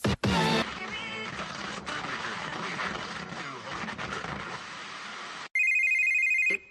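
A telephone rings in a sustained, fairly loud electronic pattern beneath dense background noise, then a clearer, isolated ring sounds near the end.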